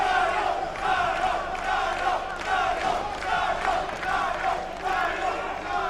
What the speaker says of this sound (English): You hear the Gajo chant from the crowd.